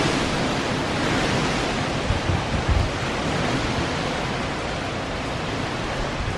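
Strong wind roars steadily outdoors in Orlando during Hurricane Ian, a dense, loud rushing noise that buffets the microphone, with a few brief thumps partway through and no talking.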